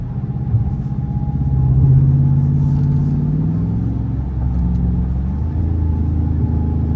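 A Dodge Charger R/T engine rumbles and revs close up under acceleration on cold tires, swelling to a louder growl then settling into a steady low drone.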